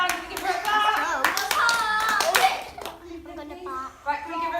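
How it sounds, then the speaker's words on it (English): Children at a summer holiday theatre workshop clap together in a short burst of applause, with kids' voices chattering over and after it in an indoor room. "Can we give her a clap?"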